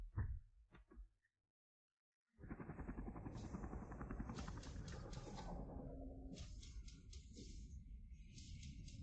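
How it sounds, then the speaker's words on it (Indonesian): Military aircraft fly overhead in a war scene, a steady, whirring rotor-like drone that starts after a few short sounds and a brief silence and then continues evenly to the end. "Ada pesawat, ada tank."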